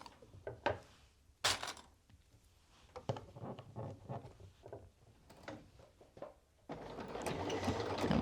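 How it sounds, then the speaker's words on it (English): Sewing machine stitching along a previous line of stitching on a trouser waistband, running in short bursts with pauses and small clicks, ending in a steady, louder mechanical run. "we'll just stitch a little bit along that previous line of stitching"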